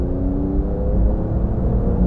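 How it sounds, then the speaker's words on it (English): A Porsche 911 GT2 RS under full throttle in fourth gear gives a loud, steady, low engine roar and rumble heard from inside the car, with no talk over it. "I just floor the throttle and off we go."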